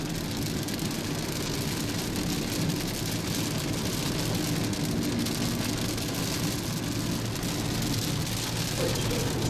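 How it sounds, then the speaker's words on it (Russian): Heavy rain pours down on a moving car, a dense, steady roar that stays loud and unbroken throughout, with no voices. "Смотрите, какой сильный дождь."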